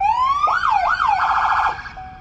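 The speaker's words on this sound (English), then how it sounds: "The button on the top left marks sirens simply takes you through your three siren tones" A McMinn County brush truck's electronic siren steps through its tones: a rising wail, two swooping yelps, then a rapid warbling pulse before cutting off, loud and close with no talking.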